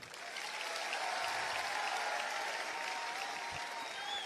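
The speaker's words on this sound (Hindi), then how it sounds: "इस चीज पे तालियां मैं चाहता हूं आपसे" Applause from an audience at a talk in India, a continuous, even spread of many hands clapping that rises quickly and holds at a moderate level throughout, with no voice over it.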